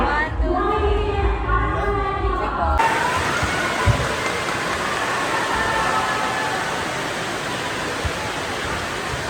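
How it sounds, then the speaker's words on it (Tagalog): Heavy rain pours down in a dense, steady hiss that fills everything, after a brief burst of voices at the start. "Grabe, ang lakas pa rin ng ulan."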